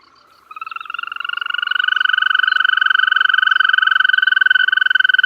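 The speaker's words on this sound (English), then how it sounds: "The mating voices of our amphibians, like that of the green toad, may remind the uninitiated listener of the voices of birds." A green toad gives its mating call, a sustained, high, bird-like trill that starts after a brief silence and keeps a steady rapid pulse, close and loud, with no other sounds.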